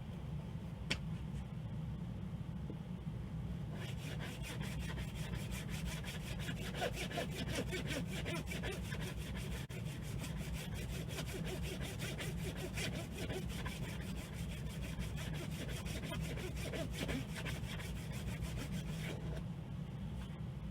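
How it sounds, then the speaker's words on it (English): A hand saw cuts fret slots in a wooden guitar fingerboard clamped down for a refret, giving a steady, fast, rasping back-and-forth stroke that runs close and continuous for about twenty seconds with no voices. "So I've clamped my workpiece down and I'm going to slot for the frets now."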